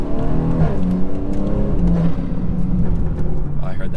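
A BMW B58 engine, stage 2 tuned with a catalyst downpipe, revs hard with a throaty, rising and falling intake roar that fills the whole moment, while voices seem to murmur faintly beneath.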